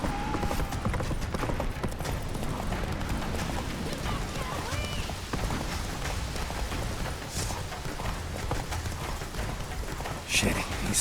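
Roach, Geralt's horse in The Witcher 3, gallops in a steady clip-clop of hooves under rain and game ambience, with voices talking over it.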